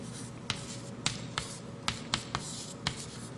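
Writing on a board in a mathematics lecture hall: a quick series of about seven sharp taps and scratchy strokes over a steady low room hum, fairly quiet and with no talking.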